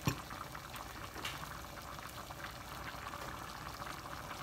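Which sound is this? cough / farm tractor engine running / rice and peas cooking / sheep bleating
rice and peas cooking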